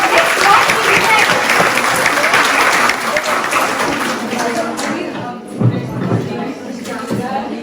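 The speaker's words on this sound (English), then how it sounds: "Everybody give a round of applause for Ms. Roshani VIjayan." An audience at a student information session claps loudly and steadily for several seconds, the applause thinning and fading out as a few scattered claps and room noise remain.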